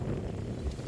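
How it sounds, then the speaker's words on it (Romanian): Brief rush of wind buffeting the microphone, a low, steady rumbling roar with no voices. "Ce vânt!"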